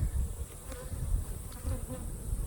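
Honey bees drone and buzz steadily around an opened hive at close range, a dense continuous hum with no voices.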